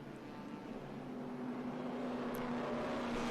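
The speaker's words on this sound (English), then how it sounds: "They're going 3 wide in the formation lap." Race cars, a Porsche 914 among them, roll along three wide on a formation lap at Circuit of the Americas, giving off a steady, distant drone of engines that swells a little toward the end. No voices can be heard.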